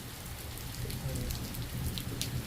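Steady rain falls in the hill country, a dense wash of drops hitting surfaces, heard close and continuous at a moderate level without any talk.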